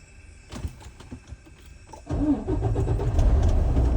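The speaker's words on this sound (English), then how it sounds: "Now I'm going to start the truck." A truck with air brakes sits quiet with a few scattered clicks and knocks before its engine cranks and catches about halfway through, then settles into a loud, steady running rumble.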